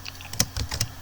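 Keys clatter on a computer keyboard while a search for an Acer Aspire E15 Blu-ray burner is typed, a short run of quick uneven clicks close by with two sharper strikes, no voices.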